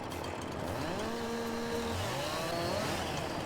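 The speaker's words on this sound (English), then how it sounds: "Okay, so I gotta get in there with a chainsaw to deal with that." A chainsaw revs and whines in rising and falling pitch sweeps while cutting a tree on farmland, steady and moderately distant throughout.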